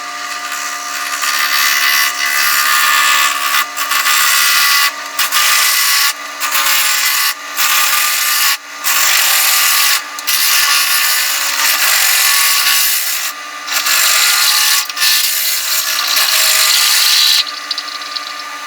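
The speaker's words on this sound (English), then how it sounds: "Alright, got her chucked up on the lathe here." A lathe cuts a part for an MSR Whisperlite stove repair, making loud, bright scraping and grinding passes broken by short pauses as the tool repeatedly engages and lifts away.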